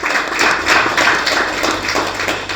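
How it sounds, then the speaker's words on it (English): An audience applauds after a talk on women and girls in rugby in Zimbabwe, a dense patter of clapping hands that swells and fades in uneven waves. "Another round of applause, ladies."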